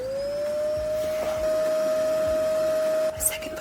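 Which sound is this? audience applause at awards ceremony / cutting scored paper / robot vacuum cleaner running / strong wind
robot vacuum cleaner running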